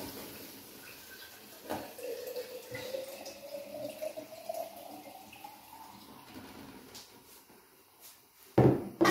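Water runs steadily from a tap, its tone slowly rising as it flows, with a brief clatter near the end.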